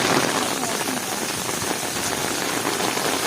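Steady rain pouring onto surfaces, a dense continuous patter close by and fairly loud throughout, with no clear voices over it.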